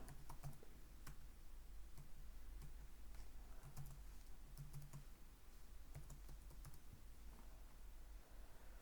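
Soft, steady keystrokes on a computer keyboard as an ID and password are typed, quiet and close with an even rhythm throughout.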